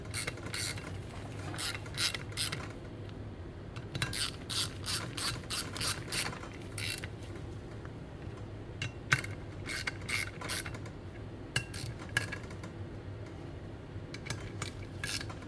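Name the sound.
ratchet snugging down bolts on Garrett TP38 turbo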